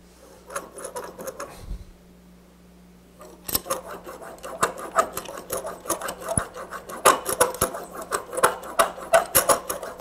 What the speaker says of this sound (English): did you first grind the bevel to the new angle and are you now refining it on the stone?